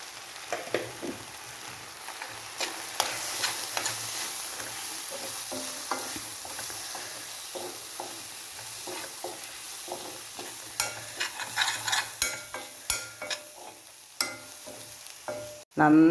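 Spice powders of turmeric, coriander and garam masala frying and being stirred in a pan for chicken curry, with steady low sizzle and frequent scraping spoon strokes that grow busier toward the end, no voices.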